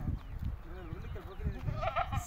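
A Beetal goat bleats several times in a farm setting, wavering calls rising over a steady low rumble, with people talking nearby.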